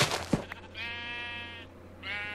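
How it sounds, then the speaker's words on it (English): Two clear sheep bleats from the Minecraft Skyblock game sound out close and fairly loud, a longer one followed by a shorter one, with no talking over them. "Okay, it's a sheep."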